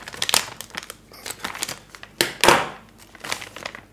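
Traxxas UDR anti-roll bar parts being unpacked from plastic bags, a close run of crinkling, rustling and tearing with uneven bursts and louder crackles partway through.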